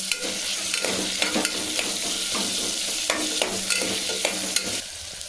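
Onions frying in oil in a pan, with a continuous close sizzle broken by frequent scraping stirs and clinks of the spatula at an uneven rhythm.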